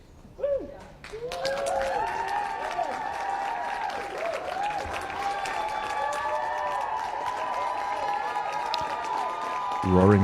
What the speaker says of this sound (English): Roaring kitty style applause